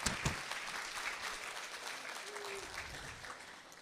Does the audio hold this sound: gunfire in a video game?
no